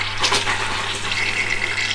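A porcelain RV toilet flushed by pressing its foot pedal, giving a steady close rush of water gushing into the bowl that lasts throughout, over a faint low hum.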